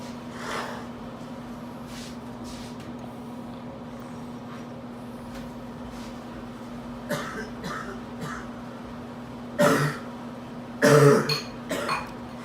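A person coughs in a few short, harsh bursts near the end, loud and close, after a long stretch of quiet room hum.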